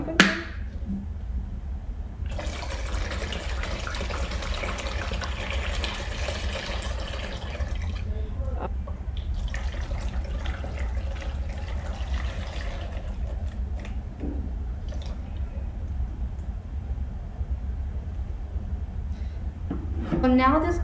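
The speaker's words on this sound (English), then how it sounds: "We're going to just dump all our hot water in there." Hot water pours steadily into a container for several seconds, a broad rushing splash that pauses briefly, then resumes before stopping.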